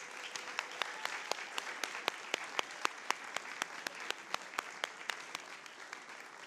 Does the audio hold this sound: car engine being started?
no